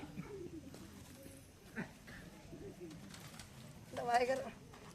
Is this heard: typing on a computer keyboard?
no